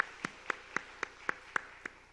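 A congregation at a Korean church's Sunday morning worship service claps in a steady, even beat, about eight crisp claps roughly a quarter-second apart, fairly soft and set against a quiet room.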